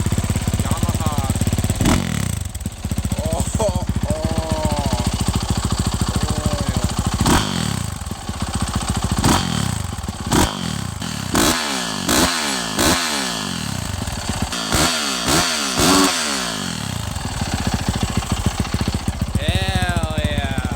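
A Yamaha dirt bike engine runs rough and rattly near and loud, revving repeatedly in sharp bursts that bog down, with a needy idle in between.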